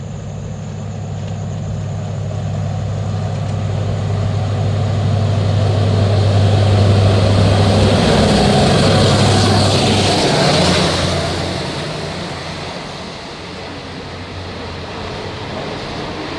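Alstom locomotive number 4147 hauling rapid train 133 rumbles past with a strong low engine drone under accelerating power, swelling to a peak mid-pass and then easing as the train moves away, with no voices.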